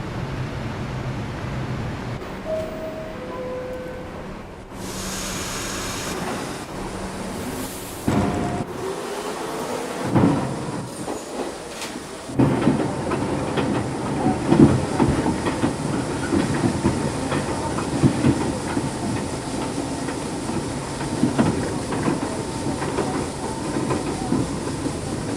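A Riverdale-bound New York subway 1 train runs through snow with a steady rumble and hiss, brief chime-like tones early, then a rising clatter of wheels over rail joints as it picks up speed.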